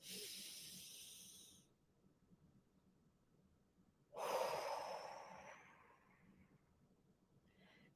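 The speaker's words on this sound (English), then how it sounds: "I want you to take a deep breath in" Two long, deep audible breaths at close range, taken during a belly breathing exercise: a breathy inhale of about two seconds, a pause, then a louder one that fades gradually.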